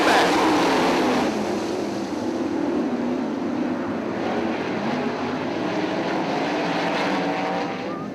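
A field of 410 sprint cars roars on the gas out of turn four at Attica Raceway Park, a loud, sustained, droning engine wail that holds steady for several seconds without talk.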